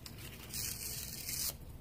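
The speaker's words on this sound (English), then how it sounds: "we're going to tear so we get a nice texture" A single steady tear along the edge of a sheet of paper holding a child's self-portrait drawing, a close, papery rip lasting about a second amid quiet room noise.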